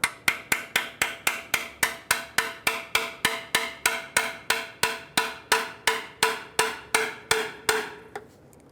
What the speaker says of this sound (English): start with a pry bar or a screwdriver and a hammer